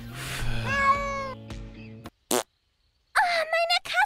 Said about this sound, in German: Oh, meine Katze!